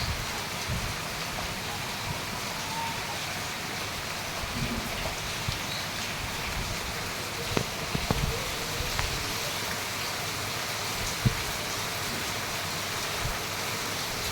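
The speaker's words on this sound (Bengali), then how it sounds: "সকালবেলা মুষলধারে বৃষ্টি হচ্ছে।" Heavy morning rain pours down in a steady, even hiss with scattered soft drops, fairly quiet and uninterrupted throughout.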